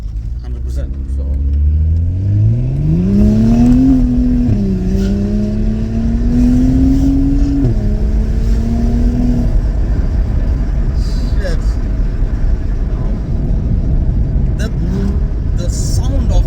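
A six-cylinder engine in a BMW 135i revs up loudly with a rising, then sustained pitch, and the deep rumble carries on alone after the rev settles back down.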